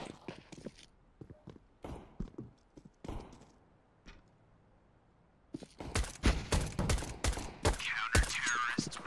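Gunfire in a competitive online shooter game: scattered sharp shots and footstep clicks at first, then after a lull a louder stretch of rapid, closely spaced bursts of firing.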